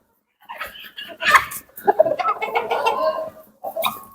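Black Andijan chickens and a rooster cluck in short bursts nearby, some calls rising sharply, with brief pauses between.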